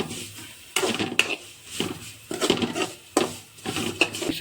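Vermicelli tossed in ghee left over from frying dry fruits, for semiya payasam: a spoon repeatedly scrapes and clinks against the pan in close, uneven bursts, with a faint sizzle between strokes and no talking.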